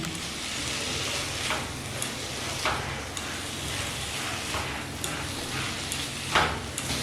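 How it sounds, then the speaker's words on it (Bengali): Prawns, about 250 grams and shelled, sizzle steadily as they fry with masala, with occasional scraping stirs at a moderate, constant level. "এবার মশলার সাথে এই চিংড়ি মাছ ভালো করে কষিয়ে নিচ্ছি"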